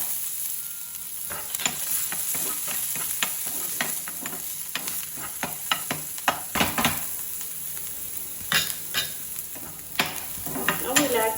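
Chopped garlic, onion and capsicum sizzle steadily in a pan for a paneer street-food snack, with frequent stirring scrapes and utensil clicks through the sizzle.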